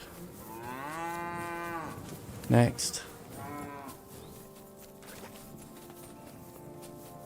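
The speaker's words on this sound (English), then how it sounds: "2 nicely fattened cows." Cows in the video game Kingdom Come Deliverance II give long, drawn-out moos, two calls separated by a brief louder thump, with a quiet word spoken partway through and a low ambient hum afterward.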